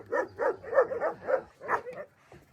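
Several dogs bark in a quick burst of overlapping yaps and woofs, fairly close, followed by a few softer whimpering sounds.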